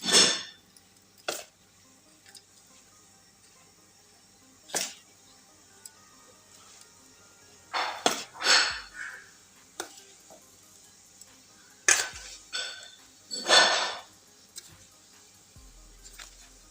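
Ingredients for panjeri, almonds among them, are stirred in a bowl, giving scattered clinks and scrapes of utensil against the dish in short bursts with quiet gaps between, close and moderately loud, with no talking.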